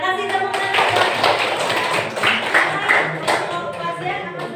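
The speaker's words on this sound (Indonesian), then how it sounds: "Ya, kasih tepuk tangan." Students in a classroom clap their hands together, a dense, fairly close burst of applause lasting several seconds with a faint voice mixed in.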